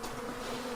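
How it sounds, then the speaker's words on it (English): Bees buzzing in a steady, close drone around a pile of wood, filling the brief moment with no talk. "We have a whole pile of bees."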